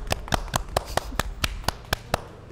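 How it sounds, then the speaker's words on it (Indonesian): Hands clapping in a podcast studio in tribute to mothers: about ten sharp, evenly spaced claps in a slow, steady rhythm, close and crisp against a quiet room. "Intinya tepuk tangan buat ibu kita semua"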